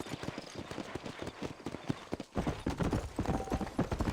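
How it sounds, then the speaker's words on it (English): Horse galloping in the video game Red Dead Redemption: steady rapid hoofbeats, close and loud, running continuously with a brief dip midway before the pounding resumes. "Para esporear o cavalo e aumentar a velocidade, aperte Left Shift repetidamente."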